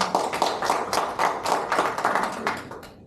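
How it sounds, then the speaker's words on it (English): Audience applause at a youth leadership social media event, a burst of clapping from a moderately sized crowd, rhythmic and close, tapering off toward the end. "let's give her a round of applause"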